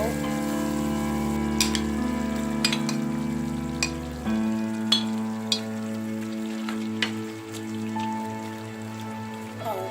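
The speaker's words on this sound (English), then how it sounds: "So now I'm going to stir and add in my tomato." Tomato goes into a simmering Nigerian mackerel fish stew that fries with a steady crackling sizzle, broken by a few sharp clinks of a stirring spoon against the pot before the sound eases slightly.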